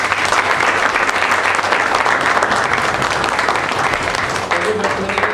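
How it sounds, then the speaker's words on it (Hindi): Audience applause following a children's ballet-style dance-drama performance, a dense, steady wall of clapping that stays loud and continuous throughout, with a voice briefly audible near the end. "तालियां आपको।"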